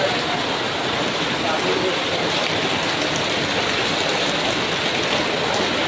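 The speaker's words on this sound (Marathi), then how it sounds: "खूप पाऊस पडतो" Heavy rain pours down in Chiplun as a dense, steady roar of falling water with no let-up, broad and loud, while a voice may sit faintly beneath it.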